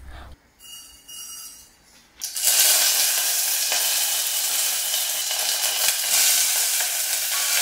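Mustard seeds, curry leaves and garlic cloves sizzle in a tablespoon of hot oil in a pot, starting with a loud burst after a quiet moment and then holding a steady, bright hiss.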